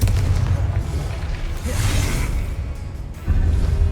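A booming explosion effect for a Confringo spell in an action game swells with a whooshing rush before a deep low rumble returns, loud and close.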